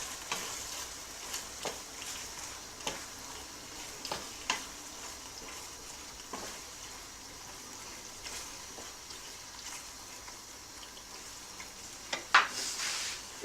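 Pasta with bell pepper and olives being stirred through alfredo sauce in a pan, with soft scraping strokes and occasional clicks of the utensil against the pan over a faint, steady sizzle, no talk.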